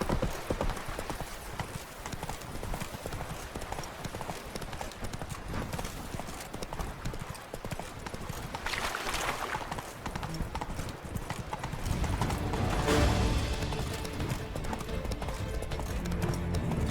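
Roach the horse in The Witcher 3, continuous galloping hoofbeats in a rapid rolling rhythm over about seventeen seconds, close and steady, swelling louder toward the end.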